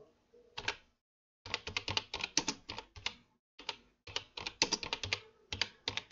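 Quiet, close computer keyboard typing in quick irregular bursts of keystrokes, with a short pause between runs and no voice heard.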